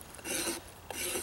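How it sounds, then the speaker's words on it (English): A knife edge scrapes along the wooden axe handle outdoors in the bush, two close rasping strokes with a short pause between, heard alone. "I just take the edge of the knife and just scrape"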